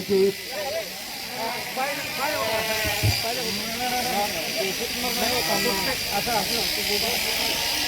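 Electric sheep shearing machines run during a shearing gathering, giving a steady broad whirring hiss for the whole stretch while people talk over it.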